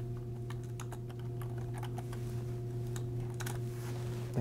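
Keys clattering on a computer keyboard as a template name is typed into notes software, a quick irregular run of clicks over a steady electrical hum, with no voices.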